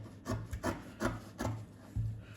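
A paper dress pattern being cut out at a worktable makes about five rhythmic, close rasping strokes, evenly spaced, with no talking.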